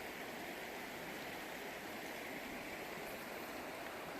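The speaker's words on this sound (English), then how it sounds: "those rapids will oxygenate the water, especially in summer" Steady, even rushing of stream rapids at Pickering Creek in winter, a continuous faint watery hiss with no pauses or talking.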